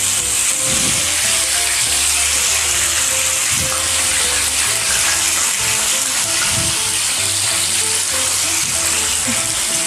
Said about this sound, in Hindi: अब हम एक एक करके सारी मछली को अच्छे से फ्राई कर लेंगे।